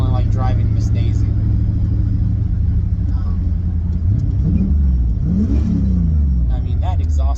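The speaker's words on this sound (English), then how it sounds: "that exhaust note though" A car engine revs and accelerates with a deep, rumbling exhaust note, rising in pitch, while people talk over it.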